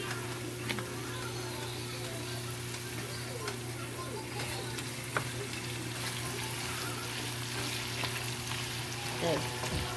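Onion and pepper fry together in a stew pot with a continuous, dense sizzle at steady volume, a low hum underneath, and occasional faint stirring clicks and taps.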